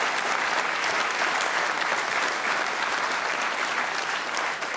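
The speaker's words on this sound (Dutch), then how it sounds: "Applaus voor de omroep." A studio audience at a televised dance show applauds the broadcaster with steady, loud, unbroken clapping from a large crowd.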